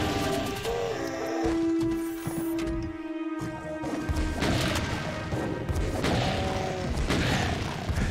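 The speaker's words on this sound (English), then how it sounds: "Okay, I got this rocket launcher." Rocket launcher blasts and explosions in the game Doom: a loud run of smashing, booming impacts and crashes with ringing tones, continuous and dense over the whole stretch.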